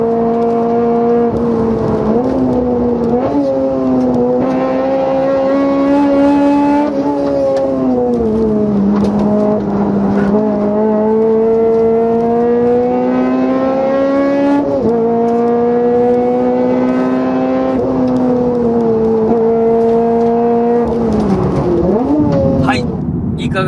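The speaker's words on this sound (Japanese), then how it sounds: "じゃあ FD2 タイプ R の車載映像はどうぞ。" Onboard engine sound of a Honda Civic Type R FD2 at steady, loud volume, the revs climbing and falling through gear changes with a strong harmonic whine, heard alone without talk.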